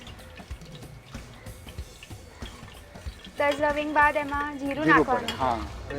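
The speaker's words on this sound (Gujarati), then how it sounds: "આપણે જીરાનો વઘાર દઈએ ઓકે તો લવિંગ નાખી દીધા જી હવે જીરું" Cloves and cumin sizzling in hot oil for a tempering, a low crackling fry running throughout, with a voice speaking over the latter half.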